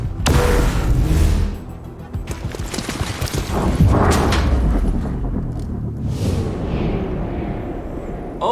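Grenade blast from the turn-based tactics game XCOM: Chimera Squad: a loud, booming burst up front with rumbling debris and crackling aftermath, followed by further thumps and a lingering low roar.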